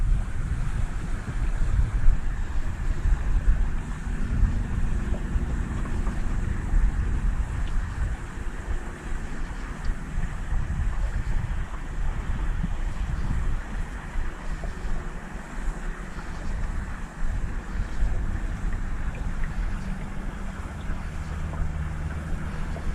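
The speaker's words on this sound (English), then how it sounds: "we've had the wind from all 4 quarters at the moment, but it's so light, it's just very fitful" Light, fitful wind over a lake during fly fishing, a steady rushing buffet across the microphone with soft water lapping beneath, continuous and fairly loud with no clear talk.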